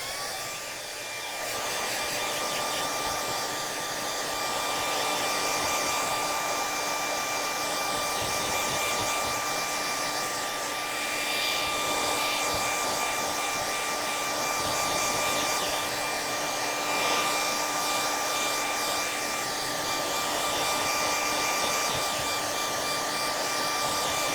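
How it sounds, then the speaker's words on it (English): A hair dryer blows steadily on a second coat of craft paint, a loud, even whirring hum with a constant whine that continues unbroken for the whole stretch, with no talk. "I'm going to go ahead and hit it with the, well, not hit it, but hit it with the hair dryer again."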